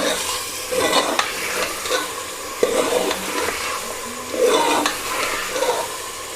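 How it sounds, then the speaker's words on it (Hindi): Spices such as ground garam masala, nutmeg and mace fry for beef haleem in a pan, with a steady loud sizzle and repeated close scraping stirs from a spoon, and no talk. "अच्छी तरह मसाला में भून गिनसूँ।"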